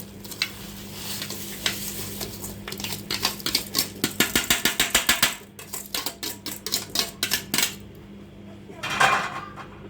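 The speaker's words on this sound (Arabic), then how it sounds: "واخر خطوه معانا هننزل بالرز، كنا غاسلينه ومصفيينه." Washed and drained rice goes into a koshari pot that already holds lentils and vermicelli, making rapid scraping and stirring clatter against the metal pot over a soft sizzle, then quieter stirring afterwards.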